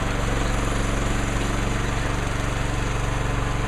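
A small engine on a homemade backhoe running steadily nearby, a rough rhythmic chugging drone with a constant loud mechanical hum.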